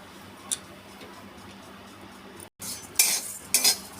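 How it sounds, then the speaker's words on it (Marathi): Rice grains dry roasting in a pan with no ghee, stirred with a utensil, giving faint scraping and light clinks, then a louder rattling burst of grains moving against the metal near the end. "डायरेक्ट तांदूळ घालते आणि ते आपण भाजून घेणार आहोत"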